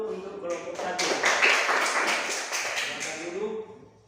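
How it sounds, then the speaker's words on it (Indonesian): Classroom applause for a student group, a burst of many hands clapping that swells for about three seconds and then fades, with voices murmuring underneath. "Tepuk tangan dulu untuk kelompok 1."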